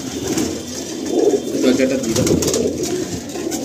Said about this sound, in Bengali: এই ফার্স্ট সেকশনে আমি প্রথমেই আপনাদের নর পায়রা সেকশনটা আমি দেখাচ্ছি